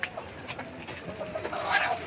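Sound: chicken during weekly health check

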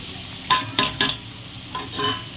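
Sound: spice masala being stir-fried in a pan for fish curry

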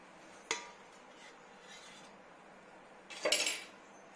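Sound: omelette transferred onto a plate

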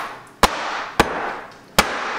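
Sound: soap mold banged on surface to settle goat milk soap

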